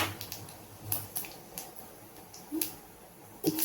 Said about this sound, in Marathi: राई बघा छान तडतडली.